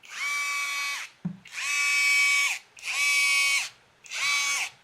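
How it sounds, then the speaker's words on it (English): A small cordless impact driver bought from Amazon, rated at about 236 foot-pounds of torque, runs in four bursts of high-pitched whining. The bursts are separated by brief pauses, and a click sounds between the first and second runs. "236 foot-pounds of torque from this little impact driver"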